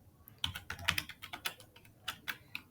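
A computer keyboard being typed on while entering HTML list items, with irregular bursts of quiet, close keystrokes and short pauses, and no talking.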